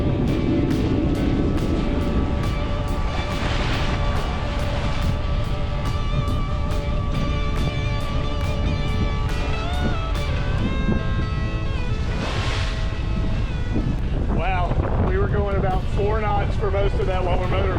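A sailboat motors under engine power at about seven knots between Carriacou and Bequia, with a constant engine drone, wind buffeting and water rushing past, and people talking over it throughout.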